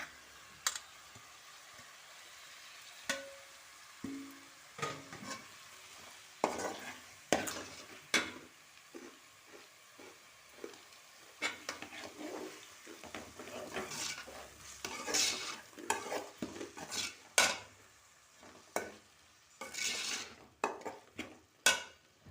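Tomatoes are sautéed with ginger garlic paste for prawn biryani: a soft sizzle runs beneath repeated stirring scrapes and taps of a spoon against the pan, in irregular bursts throughout.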